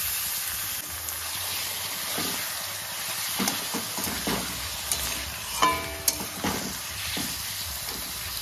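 Chicken pieces with salt sizzle steadily in a hot pan while a spoon stirs them, giving a soft continuous hiss with occasional scraping clinks, close and moderate in level, with no talking.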